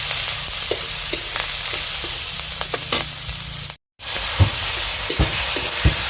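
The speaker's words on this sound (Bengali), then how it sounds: "আর এদিকে আমি তেল দিয়ে পেঁয়াজ, কাঁচা লঙ্কা এগুলো ছড়িয়ে দিয়েছি।" Onions and green chillies fry in hot oil with a steady, close sizzle and intermittent stirring clinks, broken by a brief silent gap midway.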